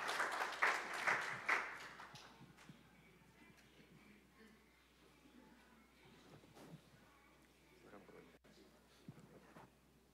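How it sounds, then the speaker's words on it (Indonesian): An audience at a church gathering claps to welcome a speaker forward, a loud burst of applause in the first few seconds that fades into quiet room murmur. "Ayo kita beri tepuk tangan dong"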